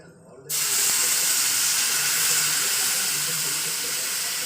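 Water is poured into a pot of cooking daliya, a steady loud hiss and rush that starts abruptly and keeps going without a break.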